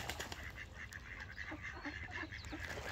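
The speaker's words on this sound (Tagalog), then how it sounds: "Ang dami ng pato, mga kaludi o." A flock of ducks quacks and honks continuously nearby, their calls overlapping in a busy, steady chorus with no clear pauses.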